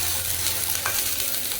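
Chutney ingredients, dried red chillies among them, roast in a pan over the flame, giving a steady soft sizzle with scraping stirs of a spoon and no talking.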